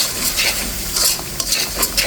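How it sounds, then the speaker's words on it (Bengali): Spice paste fried in oil for an egg poach curry, the masala cooked down until the oil separates: a steady, close sizzle with repeated scraping strokes of a spoon against the pan, no voices. "আমার মশলাটা কিন্তু কষানো হয়ে গেছে"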